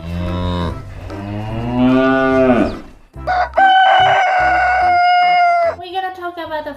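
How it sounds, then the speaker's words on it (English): A cow moos in a long, deep bellow, followed by a rooster's loud crowing, both close and clear as a sequence of farm animal calls. "I'll give you some farm animal noise as well"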